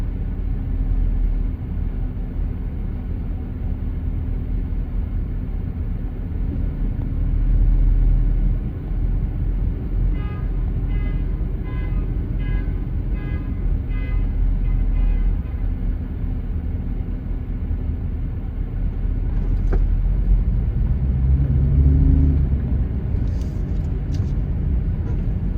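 Dense traffic on a packed street, with a bus among the vehicles; a steady low engine rumble and road noise from nearby motor vehicles continues throughout, swelling slightly at moments.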